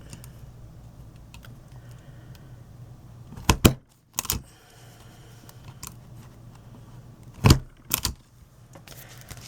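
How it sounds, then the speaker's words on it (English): Paper bags punched with a hole punch for a top-loading 8x5 scrapbook album, giving three sharp punch snaps at a steady pace with quiet handling between. "punch my holes using my top bag as my template"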